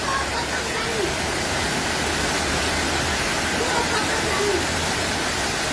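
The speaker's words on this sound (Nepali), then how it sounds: "भीषण खोला हो मैले पनि" Raging flooded river rushing in a dense, continuous roar that fills the whole stretch, steady and loud with no breaks.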